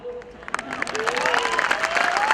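An audience claps during a business presentation, with scattered claps building into denser applause while a voice carries tonal, sung or cheering sounds over it.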